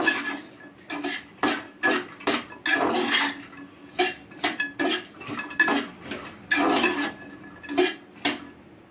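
Dry fruits lightly roasted in a pan and stirred, with repeated scraping clinks of a utensil against the metal in uneven strokes, close and without talk.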